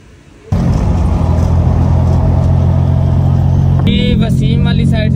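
A car's engine starts and keeps running in a steady, loud rumble as the car is driven out, with a brief rise near the end.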